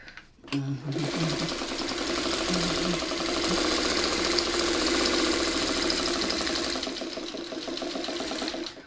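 Sewing machine running continuously while stitching a quilt block, a steady close whirring hum for several seconds after a brief voice at the start.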